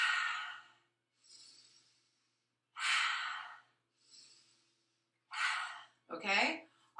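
Slow breaths drawn in and let out with the tongue resting on the roof of the mouth, airy hissing pulses repeated about four times with silent gaps, close and soft, the last exhale rougher and fluttering.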